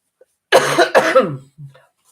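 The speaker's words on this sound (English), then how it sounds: "I'm just going to have a little cough happening here." A short, harsh cough in two quick bursts, close up, followed by a faint throat sound, with silence around it.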